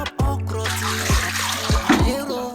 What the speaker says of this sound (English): So the vegetable is off the fire and she's washing it